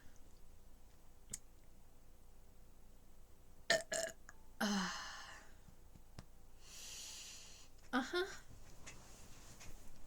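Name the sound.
burping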